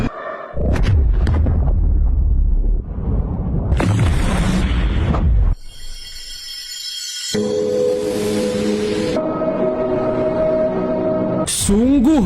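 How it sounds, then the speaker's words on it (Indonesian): A movie plasma weapon blast finishing off a giant island-sized Kraken: a massive roaring boom and rumbling eruption, then a bright sustained energy beam with ringing tonal hum and a rising sweep at the end, loud throughout. "Mereka akhirnya berhasil menghabisi Kraken dengan semburan senjata plasma yang bahkan mampu menembus luar angkasa"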